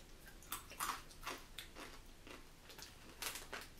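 Crunchy, spicy wasabi snack chewed close up, a string of crisp, uneven crunching bites repeating in a loose rhythm, quiet and alone without talk.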